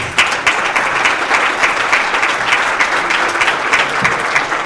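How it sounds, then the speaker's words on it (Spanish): An audience at a municipal transparency forum applauds three speakers with dense, sustained clapping. It stays loud and even from start to finish, and no one talks over it. "Un aplauso para los tres ponentes."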